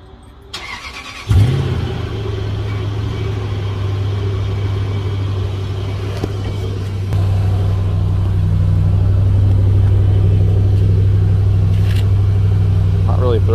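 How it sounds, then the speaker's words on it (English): A V8 Toyota 4Runner with aftermarket exhaust fires up from cold: a sharp crank and catch, then a loud, deep, steady idle rumble that rises slightly in level partway through and stays strong to the end. "All right, V8 4Runner cold start."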